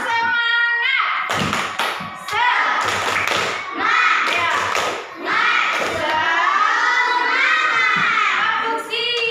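A class of children doing a rhythmic spirit clap in a classroom, loud patterned bursts of clapping alternating with chanted voices.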